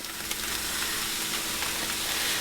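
Corned beef hitting a frying pan of onions sizzles and crackles steadily, a dense close hiss with no voices for the whole moment.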